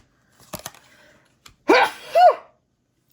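A single close, loud sneeze from a woman, preceded by a few faint clicks and a short intake of breath.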